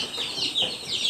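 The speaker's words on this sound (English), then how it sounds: "All little baby chickens." Day-old Delaware broiler chicks in a brooder, a close burst of high, thin peeping calls that overlap in quick succession with no talking.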